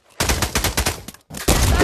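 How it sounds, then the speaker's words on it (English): Rapid bursts of gunfire in a WWII video game, loud and close, rattling in quick succession with a brief gap before another burst. "We're getting shot at by one of our own."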